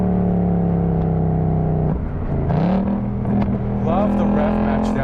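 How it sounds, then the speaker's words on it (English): Ford Mustang Mach 1 V8 engine under braking with automatic rev-matched downshifts, revs blipping up at each shift from a close, loud engine drone while a voice talks over it. "Love the rev match downshift."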